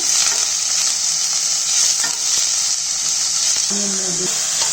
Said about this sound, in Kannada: ಇದು ಆನಿಯನ್ ಬೇಯ್ತಾ ಇದೆ.